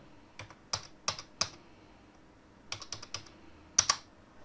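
Keys tapped on a computer keyboard to enter numbers into a calculator, short clusters of crisp clicks with pauses between, close and fairly quiet.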